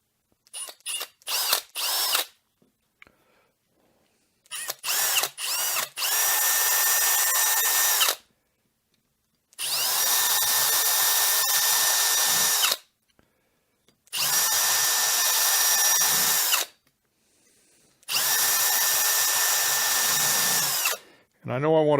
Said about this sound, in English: I'm going to drill a hole to guide the nail in first